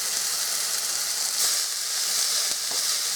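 Red potato hash browns sizzle in a hot pan as they are flipped, giving a steady, loud broadband hiss with a couple of brief soft knocks from the turning.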